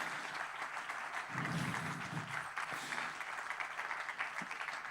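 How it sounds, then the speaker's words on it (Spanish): Church congregation applauding during a Spanish-language sermon, a soft, fairly distant wash of clapping that carries on steadily, heard faintly in a reverberant room. "dale un aplauso al Señor"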